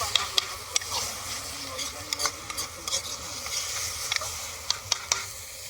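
Masala paste fried in a pan with a steady sizzle, while a spoon stirs and scrapes against the metal in repeated sharp clicks, close and clear, with no speech.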